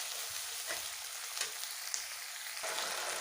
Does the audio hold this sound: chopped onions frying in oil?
yes